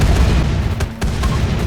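A huge explosion in RimWorld with modded weapons, a loud rumbling low roar that continues throughout, with a few sharp cracks and pops cutting through.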